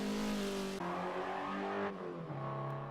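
A second-generation Hyundai Veloster Turbo in Forza Motorsport 7 accelerates through a rallycross run at Virginia International Raceway's South Circuit. The engine note climbs and drops sharply at each of several quick gear shifts, loud and close, with no talk.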